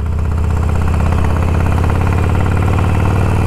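A motorcycle engine idles close by, a loud steady low rumble with an even throbbing pulse and no pauses.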